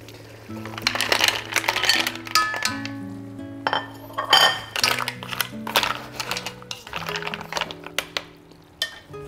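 Fresh mussels tumble into a cooking pot, their shells clattering and clinking sharply against the metal in quick bursts, close up, over a steady low tonal hum.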